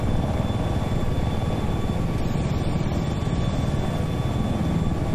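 Helicopter in the Battlefield 4 video game, a steady loud rotor and engine drone that holds unbroken and close for the whole stretch, with no talk over it.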